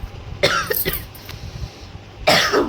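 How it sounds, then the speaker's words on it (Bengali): A person gives a dry, tickly cough, a few short harsh bursts close to the mic, followed by another cough after a quiet pause. "আমার খুশখুশে কাশি ধরলো কেন?"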